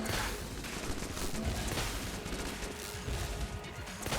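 Zeus cannon fire in Enter the Gungeon, a dense run of loud, crackling gunfire bursts with crashes, sustained almost continuously across the whole stretch.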